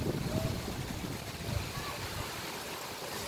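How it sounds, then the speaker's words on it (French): Heavy rain with big drops falling during a summer thunderstorm with strong gusts in Meyzieu, a steady broadband wash of water outdoors, with a voice speaking briefly near the start. "Oh les grosses gouttes qui tombent."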